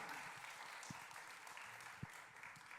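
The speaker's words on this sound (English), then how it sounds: "Yes, you can clap." Audience applause at a university Three Minute Thesis competition, a steady even wash of clapping filling the room throughout, with a couple of sharper individual claps standing out.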